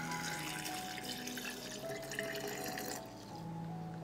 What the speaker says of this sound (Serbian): Sipat ću 500 ml mlake vode.